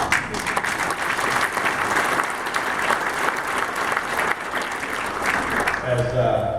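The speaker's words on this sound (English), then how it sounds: "give yourselves a big round of applause" Sustained audience applause fills the room, a thick wash of clapping that continues steadily before tapering off at the end.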